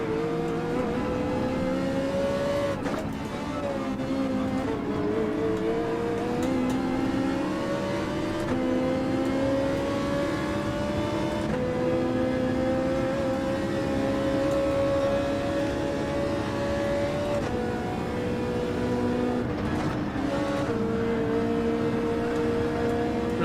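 A Ferrari race car engine in Gran Turismo 7 drones loudly and continuously at high revs, pitch climbing steadily through gears with brief dips at each shift, heard alone without talk.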